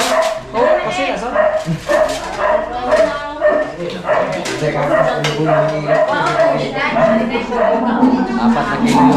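A dog barks and yips repeatedly in a rural provincial home, sharp bursts mixed with whimpers, close by, amid people talking and clattering of dishes.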